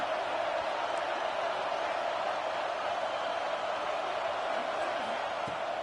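Steady roar of a stadium crowd in an American football video game, a constant broad wash of noise that does not rise or fall, heard under a commentator's voice.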